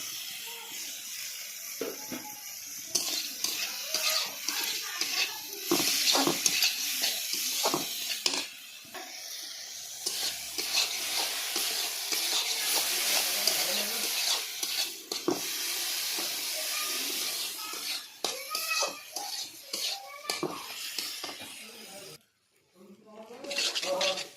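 Fried dried fish and tomatoes sizzle together for a dried fish chutney, a continuous hissing under a person talking throughout, with brief quiet moments near the end.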